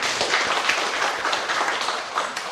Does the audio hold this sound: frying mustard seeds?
no